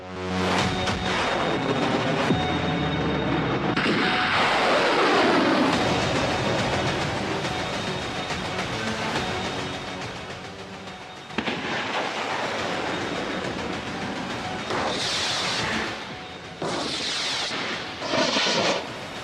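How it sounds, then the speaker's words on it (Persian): A 303 ballistic missile launch in an Iranian IRGC naval exercise roars loudly and continuously, a harsh rushing blast that gradually thins out with some crackling bursts later on. "شمارش معکوس شروع می شود برای شلیک این موشک بالستیک 303."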